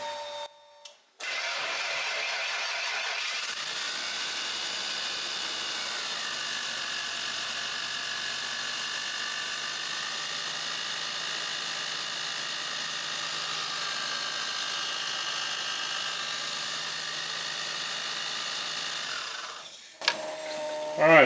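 A Ford F-150 pickup engine cranks and catches, then idles steadily up close with a whining, noisy alternator running over the motor for nearly twenty seconds before cutting off.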